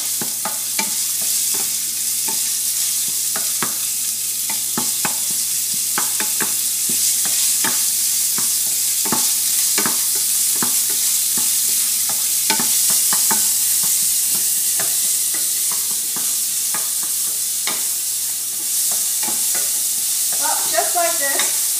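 Pork meat frying in hot oil in a wok for mapo tofu, a continuous loud sizzle broken by frequent sharp scrapes and clacks of a spatula being stirred through, close up with no one talking.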